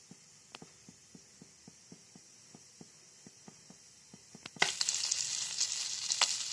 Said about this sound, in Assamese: মাছকেইজনী ভালকৈ ধুই মই অলপমান মিঠাতেলত ফ্ৰাই কৰি ল'ম